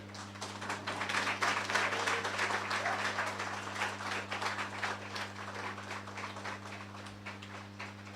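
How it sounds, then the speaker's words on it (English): Sustained round of audience applause at a school education launch event, a dense wash of many hands clapping throughout, fairly steady and moderately distant, over a low constant hum. "Madden a round of applause"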